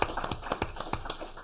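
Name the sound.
audience applause after a talk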